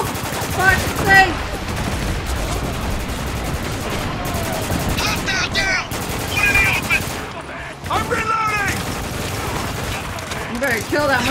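Rapid gunfire rattles in bursts in the Spec Ops: The Line video game, dense and loud, mixed with shouting voices and other combat noise throughout.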